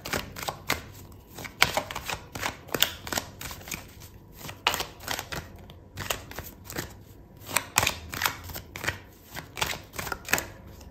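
Tarot cards shuffled and pulled from a deck: repeated crisp riffling and slapping bursts in a loose rhythm, close and fairly loud, with no voice over them.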